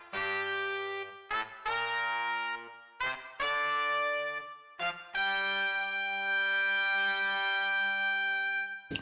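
Sugar Hill brass preset in Logic Pro, layering staccato and legato ensemble horns: several short punchy brass chord stabs followed by a long sustained chord that swells, loud and alone.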